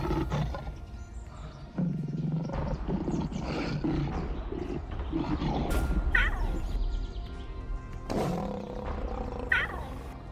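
Lions roar in Tanzania's Ruaha National Park, home to exceptionally large prides: deep, rumbling calls rise and fall across about ten seconds, loud and fairly close over a steady low outdoor background.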